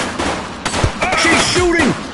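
Gunfire in a police drama scene: a quick burst of sharp shots crackling under raised, shouting voices over a couple of seconds.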